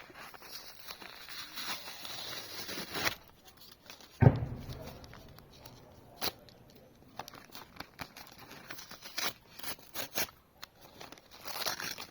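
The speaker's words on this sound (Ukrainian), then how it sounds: "Ось такий у нас пакетик. Відкриваємо." Crinkly paper rustling and a sharp tear as a small packet is ripped open, followed by scattered soft crunches and handling noises close by.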